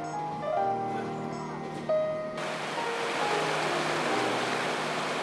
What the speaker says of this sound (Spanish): En la cascada, el agua cae desde unos 60 metros salpicando